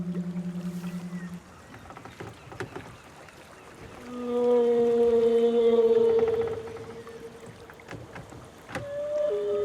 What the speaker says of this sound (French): C'est une baleine qui chante.